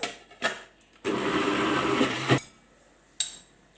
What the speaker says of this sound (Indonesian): Kemudian blender kembali.